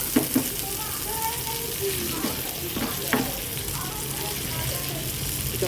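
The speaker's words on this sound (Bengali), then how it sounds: "আমি এখন ফ্রাই করে নিচ্ছি তেলটা দিয়ে" Eggplant pieces fry in oil with a steady, soft sizzle, broken by a few sharp stirring clatters and scrapes; the sound stays close and moderately loud, with faint background voices.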